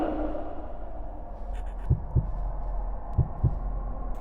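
Heartbeat minigame in the horror game DOORS: low, muffled double thumps over a dark rumbling hum, two paired beats heard about a second apart and then again, close and steady with no talk.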